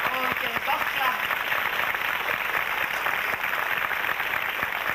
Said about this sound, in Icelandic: Og þetta er gott klapp.